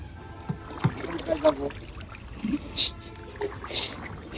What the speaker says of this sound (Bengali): আমি নৌকাটা নিয়ে সামনের দিকে যাচ্ছি